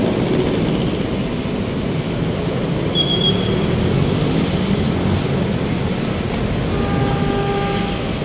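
A PNR train approaches along busy Espana Boulevard in Manila, a steady broad rumble of rail and road traffic with faint whistle-like tones near the end.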